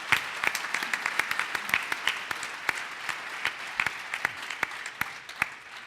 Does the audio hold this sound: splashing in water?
no